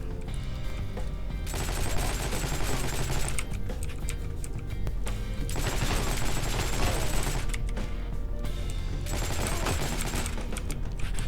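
A Thompson M1A1 submachine gun fires in the video game Heroes & Generals in loud, dense, sustained automatic bursts, near and dominating, broken by a few short pauses, with no talk.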